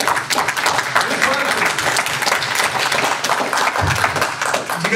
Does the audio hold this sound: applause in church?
yes